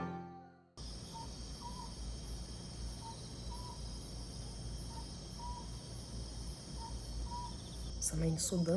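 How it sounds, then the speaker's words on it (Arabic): Owl calling at night on Jeju, Korea, giving soft paired hoots repeated at steady intervals over a constant hum of insects, ending with a sudden sharp noise. "انا شكيت ان ده صوت بومة"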